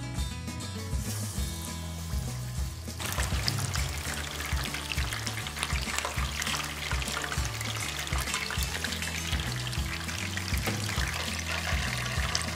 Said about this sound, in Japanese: それでは鶏肉に衣をつけて揚げていきます。